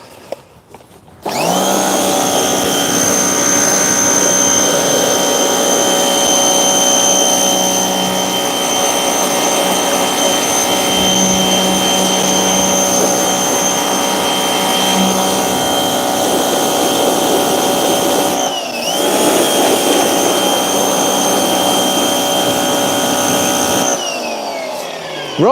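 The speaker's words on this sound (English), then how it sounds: "Then I'm getting the Hoover out, I suppose." A Hoover vacuum cleaner switches on and runs with a loud, steady, high whine while cleaning the interior of a Smart ForTwo car, with one brief dip in pitch partway through before it powers down near the end.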